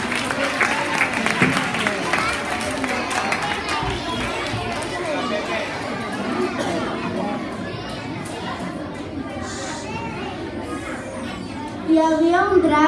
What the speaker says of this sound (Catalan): Un fort aplaudiment, sisplau.